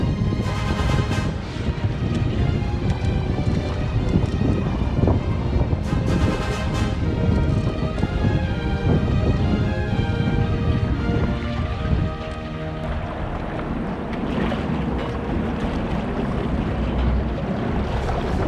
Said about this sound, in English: here comes the wake from that jet boat